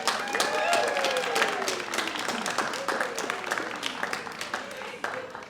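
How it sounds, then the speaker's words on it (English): An audience at a medical school Match Day ceremony claps in a dense, loud round of applause that slowly tapers off, with cheering voices mixed in at the start. "Let's give all of them a round of applause"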